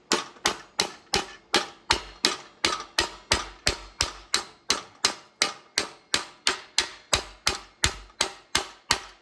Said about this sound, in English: it's basically just bouncing the hammer.